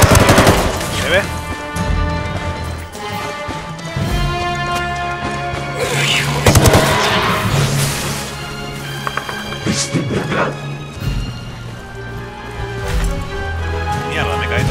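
Sustained automatic gunfire from a Ghost Recon Wildlands firefight on extreme difficulty, with rapid bursts and heavier impacts continuing loudly throughout, with in-game music or tones layered underneath.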